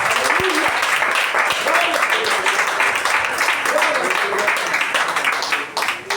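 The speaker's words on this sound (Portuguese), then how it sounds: "Vamos receber o presbítero com as palmas bem alegres para Jesus." Church congregation at a communion service clapping together to welcome the presbyter, dense continuous applause filling the room while voices call out and talk over it throughout.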